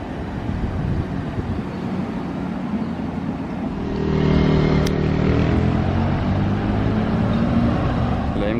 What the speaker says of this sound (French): La M3 qui arrive, elle fait un sacré bruit là